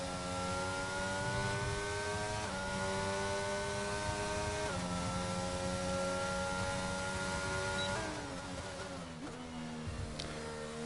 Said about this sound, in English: looks like he is on a hot lap now, approaching turns 9 and 10.